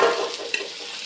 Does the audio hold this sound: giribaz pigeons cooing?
no